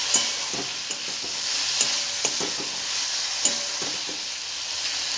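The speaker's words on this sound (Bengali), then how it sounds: "এবার এটাকে নাড়তে থাকবো।" Chilli soybean stirred in a frying pan with soy sauce and tomato sauce, a steady sizzle broken by repeated scraping strokes of a spoon against the pan, close and alone without talk.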